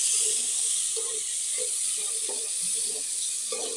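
Tomatoes hit hot oil for a chana pulao and sizzle in a steady, bright hiss, with a few soft stirring clinks underneath and no talking.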